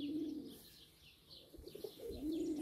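Pigeons coo softly nearby, with low throaty calls at the start and end and some faint chirps and rustling between them.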